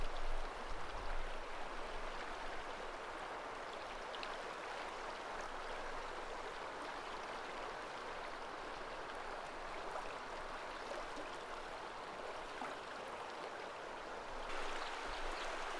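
The broad Metolius River flows past without major rapids, a steady, even wash of gentle lapping water filling the scene at low level, unbroken and with no voices.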